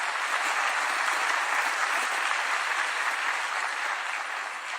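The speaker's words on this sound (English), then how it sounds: "Please give yourselves a round of applause." Audience applause at a large international summit with heads of state and business leaders; dense, sustained clapping from a big crowd, steady and moderately loud for several seconds.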